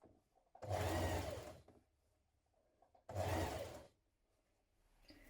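A sewing machine stitches binding into the crease along a dress bodice neckline in two separate bursts of about a second each, separated by quiet pauses, close and alone.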